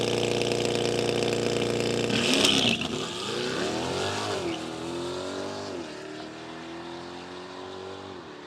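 Stock Chevrolet C8 Corvette on a drag strip in track mode, a loud steady engine roar that surges sharply around two seconds in, then rises through gear changes as it pulls away, no talking.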